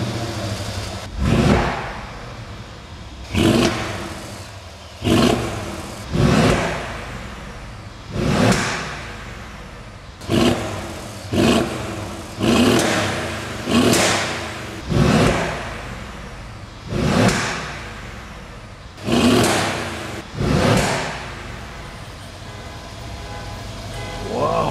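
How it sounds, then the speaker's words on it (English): A Mercedes ML63 AMG engine revs hard in a series of short bursts, each ending with sharp crackling pops from the exhaust, loud and close. "this vehicle can do shooting sound through exhaust pipe"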